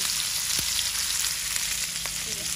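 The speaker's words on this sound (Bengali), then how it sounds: "এই যে আমাদের মাছ ভাজি হয়ে গেছে" Pangas fish frying in oil in a wok, a steady dense sizzle and crackle throughout with a couple of faint clinks, close and fairly loud with no talking.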